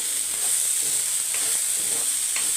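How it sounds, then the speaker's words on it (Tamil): Okra (vendakkai) roasts in a pan over the heat, giving off a steady high sizzle and hiss with a few soft stirring clicks and no voices. "வெண்டைக்காயும் ஒரு பக்கம் ஒரு அளவுக்கு ரோஸ்ட் ஆகிடுச்சு பாதி"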